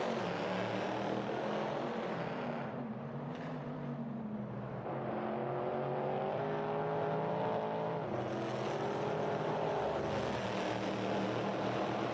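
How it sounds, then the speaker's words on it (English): A Corvette C7.R race car in Assetto Corsa, racing at Tor Poznań, with its engine droning steadily and loudly, pitch rising and shifting through gears, with no talk. "God, I love the sound of this car."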